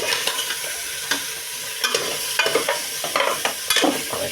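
Garlic and onion sizzle and crackle in hot oil while being stirred, with steady frying hiss and intermittent scraping, clattering stirring strokes close by.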